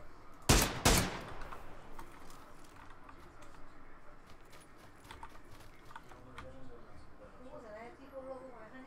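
Two sharp, loud gunshot bursts in PUBG fired close together near the start, then quieter scattered distant shots and clicks under faint talk.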